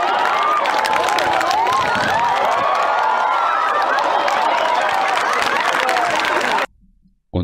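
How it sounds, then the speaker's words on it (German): A large outdoor crowd applauds and cheers steadily at a loud, dense level with scattered shouts, then cuts off abruptly near the end. "Und alle klatschen."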